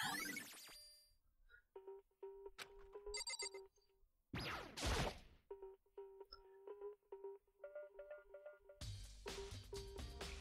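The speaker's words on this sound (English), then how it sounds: "Get out of here, inventory notification." Notification chimes from the Danganronpa Trigger Happy Havoc video game, a run of short electronic tones repeating in quick bursts, with brief louder noise bursts between them and no talking.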